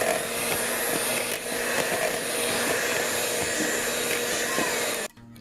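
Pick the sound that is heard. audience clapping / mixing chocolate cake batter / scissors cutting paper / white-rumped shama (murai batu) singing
mixing chocolate cake batter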